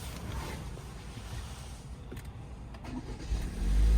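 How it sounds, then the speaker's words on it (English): A 2022 Toyota Corolla Cross LE AWD starts by push button inside the cabin, a brief crank followed by the engine catching and settling into a low, steady idle rumble. "Push button start."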